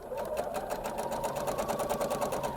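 A sewing machine runs steadily while stitching a blouse seam, its rapid even needle rhythm close and moderately quiet, continuing without pause.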